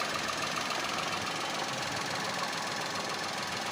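A car engine idles after its battery was replaced, having previously stalled and run unevenly. It gives a continuous, steady mechanical hum at low volume with no pauses and no talking.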